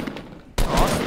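Video game gunfire from Fortnite Battle Royale, starting abruptly as a loud, dense burst of rapid shots that fills the second half.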